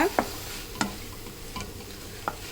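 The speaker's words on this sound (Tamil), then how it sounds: "இப்போ இதை நல்லா சுருளை வதக்கிக்கணுங்க." Manathakkali greens sauté in a pan for a poriyal, with a constant hiss of frying and several sharp scraping stirs of a spoon against the metal, close and clear.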